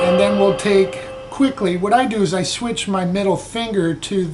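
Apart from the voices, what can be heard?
No everyday noises stand out.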